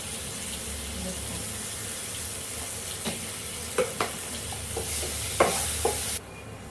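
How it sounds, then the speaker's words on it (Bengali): Potatoes sizzle steadily in a hot pan, with a few scraping stirs and clinks of a utensil near the end. "আলুগুলো একটু ভাজা ভাজা হয়ে গেছে"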